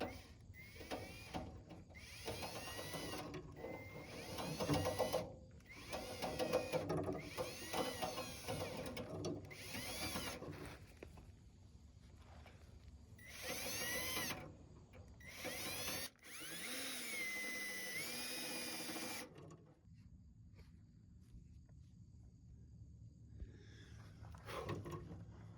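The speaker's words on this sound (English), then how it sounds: "we've got the return line cleaned out by running a bicycle cable through it on the end of a drill" An electric drill spins a bicycle cable through the clogged fuel return line of a BMW, giving bursts of whirring, rattling motor noise that start and stop repeatedly, with quieter gaps and faint background sound between runs.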